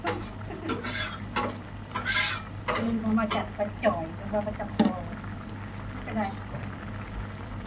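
Thai curry with bamboo shoots and phak khayaeng simmers in a pot. A utensil stirs and clinks against the pot over a low, steady bubbling, and someone talks over it.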